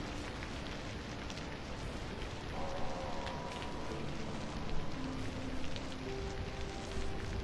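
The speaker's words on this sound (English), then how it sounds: "Oh no, not the rain." Rain falls in the video game Vintage Story as a soft, steady, hissing patter at low volume, with faint tonal sounds drifting underneath.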